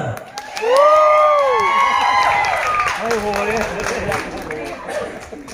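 A crowd at a judged competition votes by cheering and clapping, with loud rising whoops and shouts riding over a sustained wash of applause.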